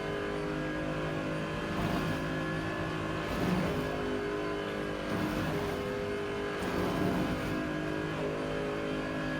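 A race car engine drones and revs through a lap in the Rennsport racing game, a steady tonal whine rising and falling with gear changes and corners, heard alone and fairly subdued.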